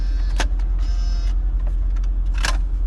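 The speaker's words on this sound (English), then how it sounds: "There's the magazine ejects." A Mercedes-Benz CD changer in a 2004 Mercedes-Benz CLK500 ejects its magazine with a short whirring motor run and a couple of mechanical clicks, close up against a steady low cabin hum.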